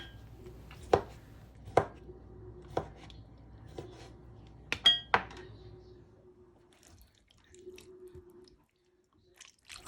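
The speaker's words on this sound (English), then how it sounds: "Next, I'm going to add tomatoes, which I'm going to cut open, de-seed, and then chop up" A knife cutting and chopping tomatoes on a board while making chili: a handful of crisp, close taps spaced about a second apart, with a couple of quick double strikes, then a quieter pause with faint handling.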